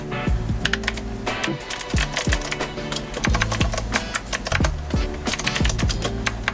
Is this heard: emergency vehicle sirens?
no